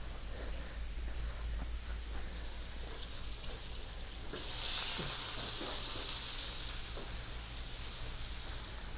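Oil frying with salt in a pan for Valencian paella, a steady sizzle that suddenly swells into a louder, bright crackle partway through before settling back down.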